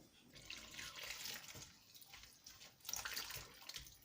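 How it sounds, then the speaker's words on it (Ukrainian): Water pours steadily into a bowl of salt with a bright splashing rush, close and fairly quiet, swelling and easing in a couple of surges. "І заливаю то водою"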